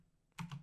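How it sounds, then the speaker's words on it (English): Two quick, crisp keystrokes on a computer keyboard while typing a command, close and clear after a short quiet moment. "I could have also tested this by typing something like"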